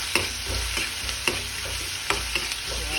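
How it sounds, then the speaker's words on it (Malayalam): Onions sautéing in a pan with soybean sizzle continuously up close, broken by sharp, regular clinks and scrapes of a spatula against the pan roughly every second, with no talking. "ഒനിയൻ ആഡ് ചെയ്തിരിക്കുന്നു ഗൈസ്. പിന്നെ നമ്മളെന്താ ചെയ്യുക, ഒന്ന് വഴറ്റി കൊടുക്കുക"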